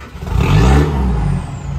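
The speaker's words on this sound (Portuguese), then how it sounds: "Liga lá, vamos ver, dá uma acelerada" Mitsubishi Triton pickup with a modified downpipe, its engine revved once in a loud, close burst that swells and holds briefly over a steady whirring idle.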